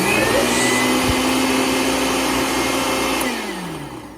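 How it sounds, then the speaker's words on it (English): A blender runs loud and steady, whirring through strawberries for a strawberry jam, its motor drone holding for about three seconds before winding down and fading near the end. "so my blender idea is not working"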